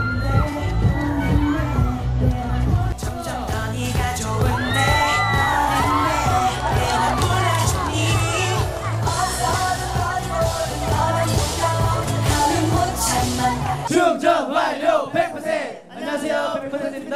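Crowd of fans cheering and whooping loudly for a rookie K-pop idol group at an outdoor stage event, sustained shouts over music, with a brief quieter stretch near the end.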